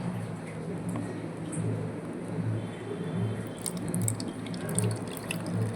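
Steady liquid trickling and dripping as blended vegetable juice is strained, with soft splashy patter continuing throughout and occasional bright drips toward the end.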